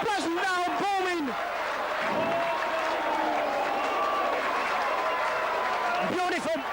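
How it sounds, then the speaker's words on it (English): Crowd at a 1994 Batley versus Doncaster rugby league match applauds a try, a broad steady roar of clapping and cheering that runs the whole time beneath a commentator talking at the start and end. "Rapturous applause there."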